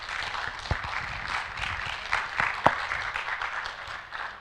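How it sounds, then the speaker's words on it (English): An audience at a lung health symposium claps to welcome a speaker, a steady moderate applause with a few sharper claps standing out nearby. "Please clap for her as she comes."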